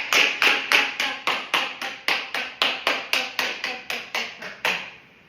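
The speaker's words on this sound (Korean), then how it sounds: "그래서 박수 치는 연습은 되게 좋은 연습이에요." Hand claps struck as a golf swing drill, around sixteen sharp, evenly spaced claps in a steady rhythm, close and crisp with no talking.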